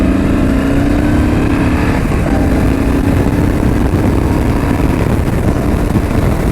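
A Yamaha V-Star 1300 motorcycle engine revs and accelerates, loud and close, with a rising engine drone over steady road and wind rumble.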